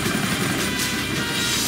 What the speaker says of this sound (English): We have four unidentified incoming choppers.